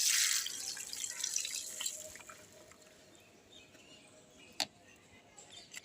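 Water poured onto a dried-out plant on a rooftop: a soft, splashy pour at the start fades quickly into quiet background, with one sharp click partway through.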